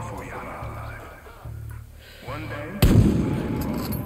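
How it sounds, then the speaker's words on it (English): A sudden loud explosion in the video game Far Cry 6 booms near the end and rumbles on, following game music and talk. "Alright, we're gonna explode this."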